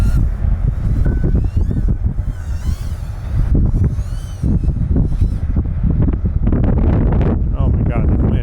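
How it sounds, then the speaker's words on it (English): Strong wind buffeting the microphone of a small FPV toothpick drone converted from a whoop in flight, loud continuous roaring gusts with rushing noise throughout and a voice speaking over it. "Oh my god, the wind."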